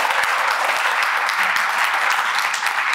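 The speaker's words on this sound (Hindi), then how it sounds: "एक बार जोरदार ताली बजाइए।" A crowd at a yoga gathering breaks into loud, dense, continuous clapping, sustained evenly for the whole stretch.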